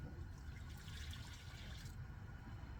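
Water runs from a small Secor hot water boiler holding 350 millilitres, a quiet steady hiss and trickle of liquid flowing continuously without a break.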